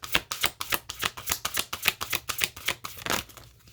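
Moonology oracle cards being shuffled up close: a quick, even run of about fifteen soft riffling slaps that ends in a short flutter, with no talking.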